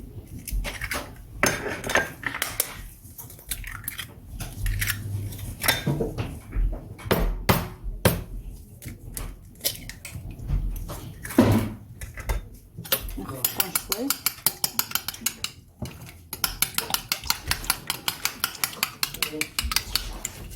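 Eggs and spices are beaten in a bowl, bursts of clinking utensil strokes against the dish, speeding into a rapid rhythmic tapping toward the end, with a voice talking in between.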